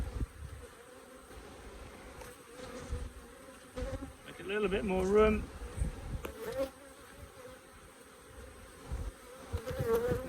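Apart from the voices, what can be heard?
honey bees buzzing around an opened hive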